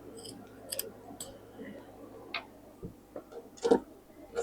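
Scissors snipping through fabric while a bolster pillow cover is sewn, a few sharp, faint cuts spaced irregularly, close by, with a quiet room behind them.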